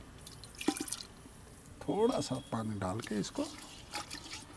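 Water poured into and sloshed around a clay cooking pot to rinse it, with bursts of splashing and trickling close up while a person talks between the pours.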